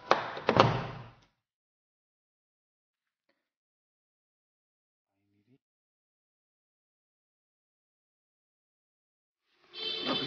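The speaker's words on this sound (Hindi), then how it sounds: "सी वाला दरवाजा खोलता हूँ" A house door being opened, giving a brief burst of knocking and scraping at the start, then near silence, with another rustling, clattering sound near the end.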